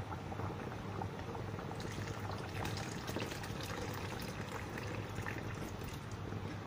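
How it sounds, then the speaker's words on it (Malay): Tamarind juice is poured into a pot of fish curry with okra and tomato, making a steady bubbling, splashing liquid sound that holds evenly throughout. "Okey, kita letak air asam jawa. Ni air asam jawa."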